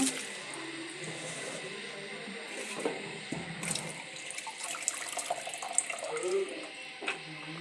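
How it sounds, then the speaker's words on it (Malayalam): Cabbage being washed by hand in water with turmeric and salt, a steady run of sink splashing and trickling with occasional clicks of handling, close and moderately loud throughout. "അത് നമുക്ക് വെള്ളത്തിൽ കുറച്ച് മഞ്ഞൾപ്പൊടിയും ഉപ്പും ഇട്ട് നല്ല കഴുകിയെടുക്കാം"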